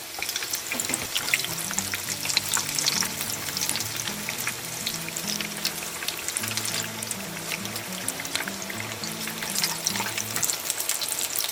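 Vegetable croquettes frying in oil over medium heat, a constant bright sizzle with crackling spatters, close and steady, alongside a low background hum and no talking.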